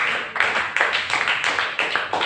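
Church congregation clapping in praise of Jesus, a steady run of quick, moderately loud handclaps in rhythmic bursts with no talk over them.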